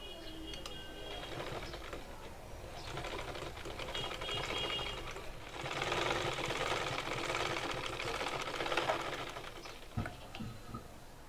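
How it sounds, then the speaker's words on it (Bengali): A sewing machine runs steadily, stitching along the open side of a garment's neck design, a quiet even whirring patter that pauses near the end. "এই সাইডে একটা সেলাই দিয়ে দিব।"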